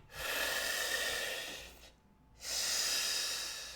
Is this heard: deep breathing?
yes